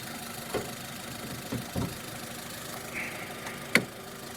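A 2023 Skoda Scala 1.6 MPI petrol engine idling with the hood open, a steady, quiet mechanical hum with a few faint clicks and knocks over it.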